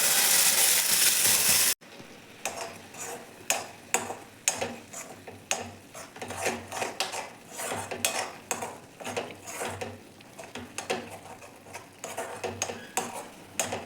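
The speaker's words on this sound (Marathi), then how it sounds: "एक 2 मिनटं व्यवस्थित कोरडं होतं तोपर्यंत व्यवस्थित मिक्स करून घेऊ आपण" A spoon scrapes and clinks steadily against a kadai while grated carrot is stirred in ghee, with rapid irregular ticking strokes and a soft low hum beneath, after a brief loud burst at the very start.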